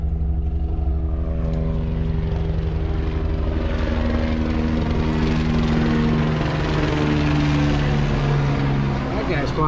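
A helicopter passes low overhead, its loud rotor drone and engine whine steady throughout with a slowly rising pitch, close and continuous while a person talks in the background.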